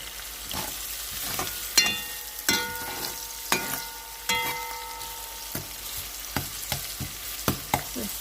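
Garlic and onion turn translucent in a hot pan, a soft steady sizzle broken by sharp, regular clicks and scrapes of a utensil stirring against the pan.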